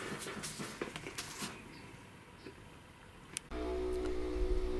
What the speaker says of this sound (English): The buzzing noise you can hear is the water pump.